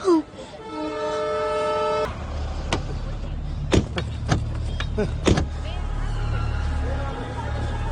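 A loud horn blasts at the start, then sharp clanks and bangs ring out over a steady rumbling background of a busy railway platform.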